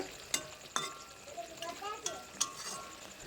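Tilapia fish curry in oil and chili being stirred in a pan, a few sharp utensil clinks and scrapes over a soft sizzle, close and fairly quiet.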